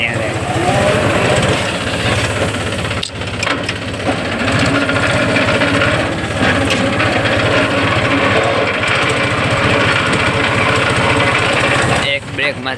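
A tractor engine runs steadily out in a field, a loud continuous droning rumble that carries on without a break, with voices talking over it.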